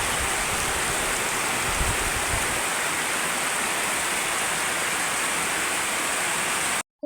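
Heavy rain pours down around a home with mango and jackfruit trees, a dense, unbroken roar that stays loud and even throughout before cutting off abruptly.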